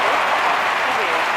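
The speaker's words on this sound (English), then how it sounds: "quite rightly the fans know to applaud" A stadium crowd applauds in the London 2012 Olympic Games video game, a dense, steady wash of clapping filling the whole short moment at a loud level.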